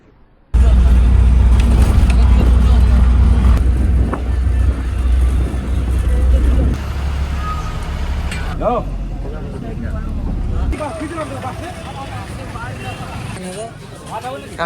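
A bus engine idling and rumbling at a roadside stop near Kharagpur, loud low drone throughout with people talking and background chatter over it.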